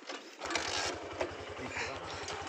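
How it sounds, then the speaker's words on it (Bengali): A motorbike on an off-road track in the Sundarbans fires up after a quiet moment and settles into a faint, quick, regular putter, with hiss and distant noise around it. "আবার সেই বাইক স্টার্ট দেওয়া হয়েছে"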